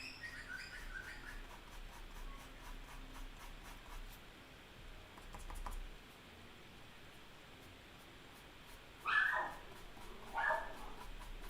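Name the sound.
dog barking and whimpering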